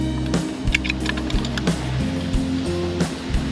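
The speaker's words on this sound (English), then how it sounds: "So you can measure your cuts on a key so you can punch out a new code key." A PROLOK Blue Punch code machine punching cuts into a key gives sharp, close mechanical clicks and thunks over a steady low hum.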